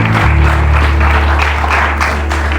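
A church congregation applauds during a morning service, a loud, dense, sustained wash of clapping that fills the space, with faint voices mixed in.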